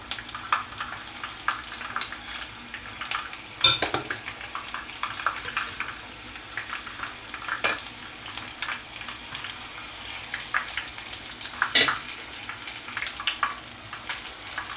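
Beef pieces (chulas) fry in hot oil with a steady crackling sizzle, dotted with sharp spits and pops that stand out now and then, close and fairly loud with no talking.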